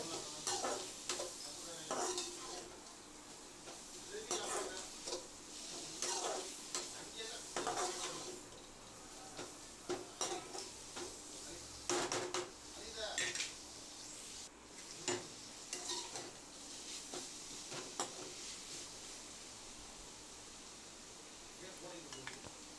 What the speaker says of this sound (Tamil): இப்போ தக்காளியை கொட்டிக்கலாம் நல்லா வதக்கி விட்டுக்கோங்க